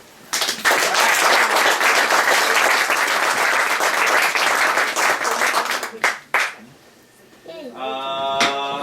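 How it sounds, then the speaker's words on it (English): An audience at an end-of-year trophy presentation party bursts into loud, sustained applause for an award winner, with many hands clapping densely for several seconds before tapering off, followed by a voice speaking. "Big round of applause, Jennifer McNichol."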